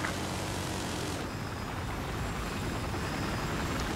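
A helicopter in the Battlefield 4 video game makes a steady, loud, dense rotor-and-engine roar that fills the whole stretch without pause, with no voices over it.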